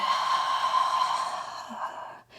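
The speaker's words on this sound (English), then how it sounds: "Exhale fully through the mouth." A long, full exhale out through the mouth during yoga breathing, a steady airy rush heard close and alone that fades out toward the end.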